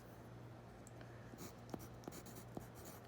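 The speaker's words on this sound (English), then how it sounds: "I can just write on this white page" Pen writing on a white paper page: soft, faint scratching strokes close by with a few small taps, quiet and steady under a low background hum, no talking.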